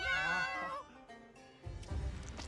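Cat companions in a Monster Hunter video game give a drawn-out, wavering meow up close, then a short quiet gap before rustling, thumping game sounds take over.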